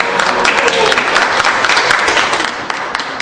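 A gathered audience claps in a lively, uneven burst, many hands close by with scattered sharper claps, and some voices mixed in beneath the applause.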